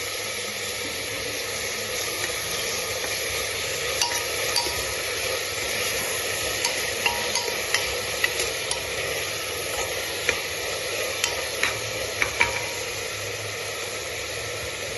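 Garlic ginger paste fries in a pan for a beef curry, producing an even, steady sizzling hiss with scattered faint ticks and crackles, uninterrupted by speech.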